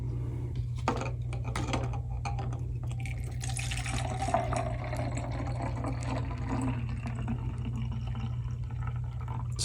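Liquid pours and trickles through a funnel into small bottles, a light splashing stream broken by soft taps and clinks of the containers.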